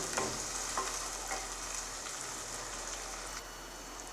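Onions frying with salt in a pan for Kerala-style anchovy curry, a steady close sizzle with faint crackles filling the whole stretch, no voices.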